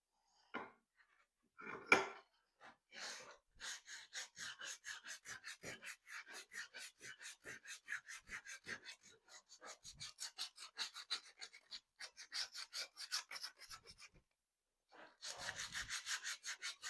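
Hand sanding with perforated sandpaper while making a saber, a close, scratchy rasp in steady back-and-forth strokes, with a few isolated knocks at the start and a short pause before the rubbing resumes.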